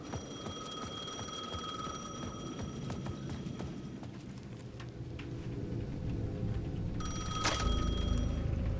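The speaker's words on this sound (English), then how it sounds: "The payphone at the edge of the plaza was ringing again" A payphone rings at the edge of a plaza in the video game Alan Wake 2. Repeated electronic ringing bursts stand out over a dark ambient rumble and start again louder near the end.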